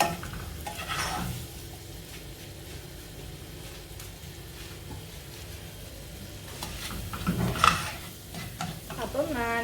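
Ingredients for mushroom soup sauté in a pan with a low, steady sizzle, broken by occasional scrapes and clinks of a spoon stirring, louder near the end.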